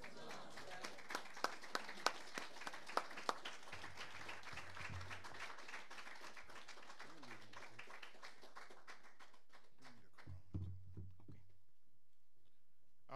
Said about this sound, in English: let's receive him with a wonderful round of applause